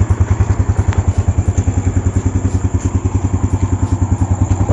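A Yamaha Jupiter Z1 motorcycle engine idles close by with a steady, rapid thumping putter, even and uninterrupted throughout, with no voices over it.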